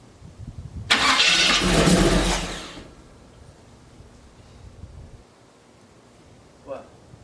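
A Chevy C10 engine, not run for two years, cranks and briefly fires in a loud two-second burst, then drops back to a quiet idle hum, with a short voice near the end.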